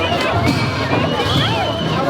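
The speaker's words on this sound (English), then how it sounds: "the crowd jolts and jostles along as it squeezes through the narrow arteries of Kathmandu" A dense crowd in a Kathmandu religious procession surges through narrow streets, a loud, steady babble of many voices with shouts rising over the jostling throng.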